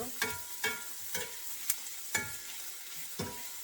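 White onion sautéing in a pan, a soft steady sizzle broken by about seven regular scraping stirs of a utensil, close and fairly quiet, with no talking.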